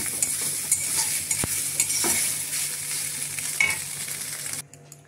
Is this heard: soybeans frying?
yes